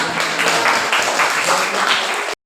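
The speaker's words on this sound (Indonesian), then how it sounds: "Masih tepuk tangan" Continuous clapping from a school audience at a P5 project presentation, a dense even patter that holds steady and then stops abruptly, with no talk over it.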